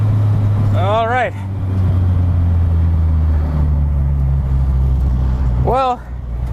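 A cheap Honda Civic's engine drones steadily and loudly while driving, a constant low hum with brief bursts of voices near the start and end.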